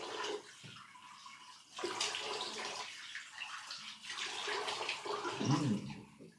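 Water is poured in short splashing bursts, a pause between pours, ending with a brief gurgle as the vessel fills, close by and moderately quiet.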